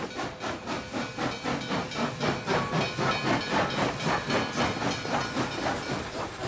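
A narrow-gauge freight train at a small station, sounding as a steady, loud rhythmic hiss and chuff that pulses about twice per second, with no talking.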